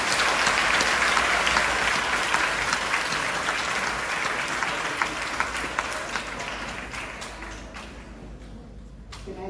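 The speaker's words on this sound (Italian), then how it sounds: "Accogliamoli con un grandissimo applauso." A theatre audience at the Teatro Apollo, gathered for a Day of Legality event, claps in a full, dense burst that gradually tapers off, with a few louder claps near the end.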